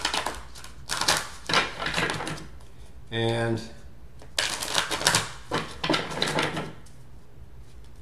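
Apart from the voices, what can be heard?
shuffling tarot cards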